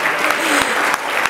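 A conference crowd at the 2013 NAIA Conference gives circus performers, including a bear act, a loud, full round of clapping, with a few crisper individual claps standing out and faint voices mixed underneath.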